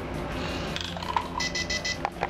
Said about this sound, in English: See the little buzzer going off and the LED in the back.